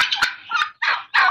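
A flock of turkeys at a farm gobbles close by, four quick rattling bursts in a row, loud and clear with nothing else heard.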